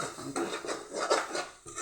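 A spatula scrapes and stirs an egg fry with tomato in a pan, in a steady run of close, rough scraping strokes with short pauses between them.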